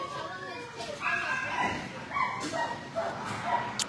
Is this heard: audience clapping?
no